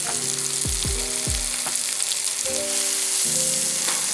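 Apple slices with brown sugar sizzle in a pan for a Southern-style apple cobbler, a steady loud frying hiss with a few scattered clinks from tongs or a utensil.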